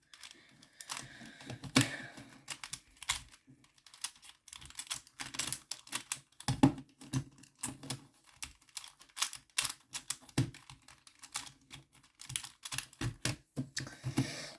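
Rubik's cubes and a Pyraminx are scrambled by hand, producing fast, continuous plastic clicking and clacking of turning layers, close and fairly quiet, with no talk.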